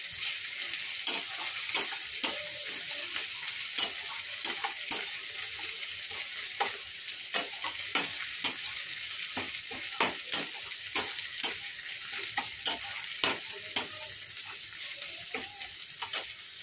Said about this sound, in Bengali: তো চলো এবার দেখে আমি বেরেস্তাটা ভেজে নিই